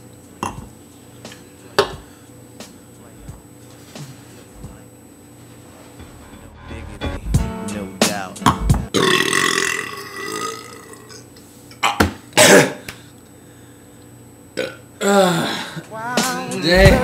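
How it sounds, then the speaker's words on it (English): Loud, drawn-out burps from people in a burping contest, several belches in turn separated by short pauses, with laughter and chatter breaking in between them. "Wanna have a burping contest?"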